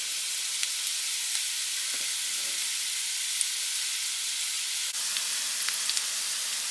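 Onion and jalapeno fry in a pan with a steady, even sizzle and hiss throughout, with an occasional faint clink or stir near the end.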